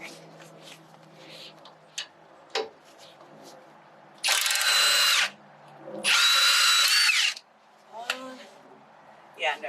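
A power impact wrench hammers at a gunky bolt on an FJ Cruiser in two loud bursts of about a second each, between stretches of nearby talk and small clanks of tools.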